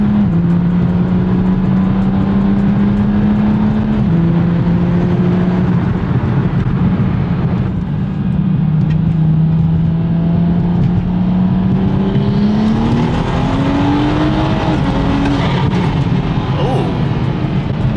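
A car engine with a custom tune and built transmission revs hard under load, rising and dropping through paddle-shifted gear changes, loud and close, with a sharp exhaust flame pop near the end.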